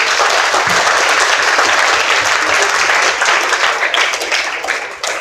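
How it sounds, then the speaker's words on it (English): A crowd at a Young Democrats political forum on a Michigan governor's race breaks into loud, sustained applause. The dense clapping fills the room and eases off slightly near the end. "So let's give everyone a round of applause."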